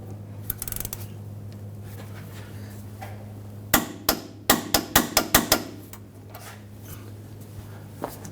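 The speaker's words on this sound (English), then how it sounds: "Now we want to torque this down to 58 foot-pounds." A torque wrench or tie rod tool tightens the inner tie rod on a 2007-2017 Jeep Patriot, giving a quick burst of about eight sharp metallic clicks over a steady low hum.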